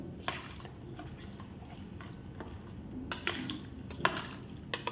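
Ugadi pachadi is stirred in a bowl, giving light clinks and taps of a spoon against the vessel, scattered and irregular, fairly quiet with faint background noise.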